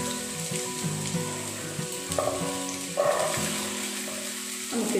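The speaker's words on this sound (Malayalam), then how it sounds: "നമുക്ക് വെളിച്ചെണ്ണ നന്നായിട്ട് ചൂടായതിന് ശേഷം അതിലേക്ക് ചോപ്പ് ചെയ്ത് വെച്ചിട്ടുള്ള സവാള ഇട്ട് കൊടുക്കാം" Chopped onions fry in hot coconut oil with a steady close sizzle, joined by scraping stirs and brief louder bursts as the pieces are turned, with no talking.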